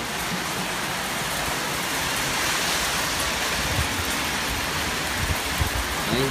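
A downpour of heavy rain falls in Nazareth with fierce wind, an unbroken wash of steady hissing noise with a few low thuds and knocks near the end.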